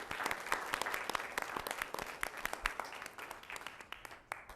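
Applause from an audience at a school committee meeting, a dense steady patter of many hands clapping together that holds for several seconds before tapering slightly.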